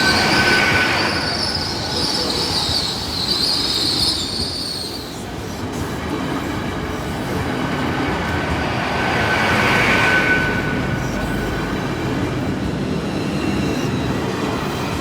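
A light Class 47 diesel locomotive passes a high street level crossing, its steady rolling rumble and wheel noise filling the scene at close range, with squealing wheels and a brief crossing alarm tone above it.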